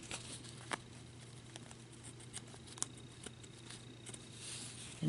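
Scissors snip and trim excess from a lace Christmas tag, producing faint, quiet little cuts and rustles over a soft background hiss.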